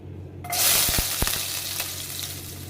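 Chopped ginger and garlic hit hot oil with a sudden loud sizzle that settles into steady frying, with a few soft stirring clinks.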